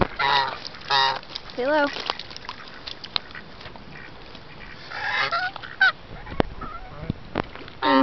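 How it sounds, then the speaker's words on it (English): Farm geese, including an Indian goose, honk in repeated bursts while begging for food at a forest preserve, some calls near and loud and others softer. A person speaks briefly between the honks. "And these geese, they're begging for food."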